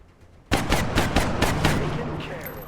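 Gunfire in the turn-based strategy game XCOM Long War: a loud automatic burst of about half a dozen sharp, evenly spaced shots that starts abruptly, then fades into a reverberant tail.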